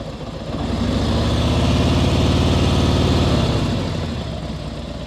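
A 2023 Harley-Davidson motorcycle idles close by, a loud, steady low-pitched rumble with a throbbing pulse that swells slightly in the middle and eases again toward the end.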